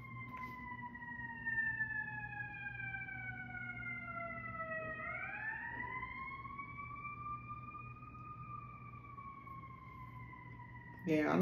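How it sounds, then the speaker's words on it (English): Emergency sirens wail steadily outside, somewhat distant, their tone sliding down and then rising again as the wail continues over a low background hum. "You hear them sirens keep going off?"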